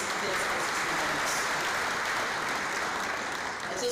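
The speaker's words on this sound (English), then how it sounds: "May we clap hands for them, all the recipients of tonight." Audience applause for police award recipients at a Limpopo SAPS provincial excellence awards ceremony in Modimolle, a steady dense clapping that fills the hall for about four seconds with a few voices mixed in.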